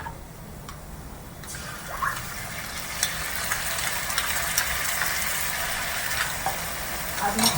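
Jackfruit pieces fry in hot oil in a pan, with a steady loud sizzle that builds and scattered scraping clicks as they are stirred and turned now and then.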